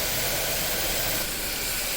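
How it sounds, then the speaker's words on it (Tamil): Curry leaves sizzle in hot oil while being tempered for millet pongal, a loud, steady, close hiss that fills the whole moment with no voice over it. "கருவேப்பிலை போட்டுக்கிறேன் அப்புறம் கொஞ்சம் போட்டுக்கிற தாளிக்கிறேன்"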